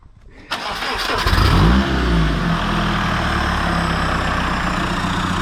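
A diesel car with a side-exit exhaust fires up and revs, a sharp rising engine surge settling into a loud, steady rumbling idle close by.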